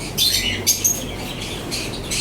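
Pet birds at a seller's stall squawk and chirp in sharp repeated bursts close by, loud high calls recurring over a steady background with no talking.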